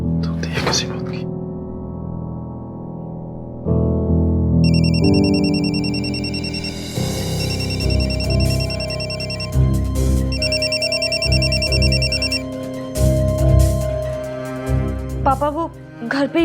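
A home telephone left behind rings on and on unanswered, its repeated electronic ringtone bursts sounding fairly loud and clear over background music and voices.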